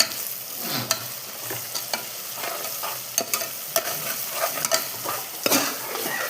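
Steady close sizzling of tomatoes sautéing in a pan with repeated scraping and clicking of a spatula stirring, no voices.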